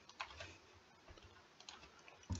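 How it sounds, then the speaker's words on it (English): A few soft key clicks from a computer keyboard, light and scattered in a quiet room, with a louder tap near the end and no talking. "I'll type it in."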